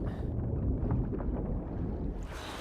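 Water being lowered and draining away in the Shadow of the Tomb Raider video game, heard as a rushing, low, turbulent wash that holds steady for a couple of seconds before thinning out, with no talk.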